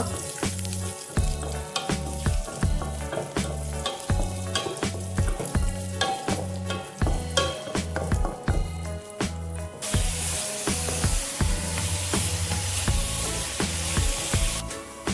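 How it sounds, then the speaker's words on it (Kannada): Cashews frying in ghee in a pan for carrot halwa, a steady close sizzle with repeated scraping stirs and light clatter running the whole way, growing brighter and hissier toward the end, no voices. "ಇನ್ನೊಂದು ಪ್ಯಾನ್ ತಗೊಂಡು ಅದಕ್ಕೆ ತುಪ್ಪ ಹಾಕಿ ಒಂದು 10-15 ಗೋಡಂಬಿ ಹಾಕೊಂಡು ಫ್ರೈ ಮಾಡ್ಕೊಂಡು ಇಟ್ಕೊಳ್ಳೋಣ."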